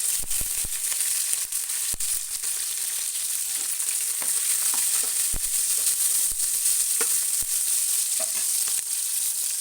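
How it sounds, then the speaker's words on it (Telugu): Cloves, cinnamon, cardamom and green chillies frying in hot oil for a cauliflower chicken curry, a loud continuous sizzle with scattered crackles and pops throughout. "అందులోకి లవంగా చెక్క దాల్చిన ఇలాచి ఇవన్నీ వేసుకొని అలాగే పచ్చిమిర్చి"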